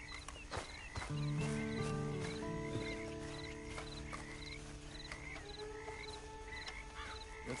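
Horse sounds in the Western video game Red Dead Online, soft hoof clops and a faint snort amid outdoor ambience and sustained background tones, fairly quiet and distant-sounding.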